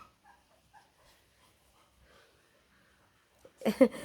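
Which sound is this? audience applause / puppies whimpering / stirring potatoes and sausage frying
puppies whimpering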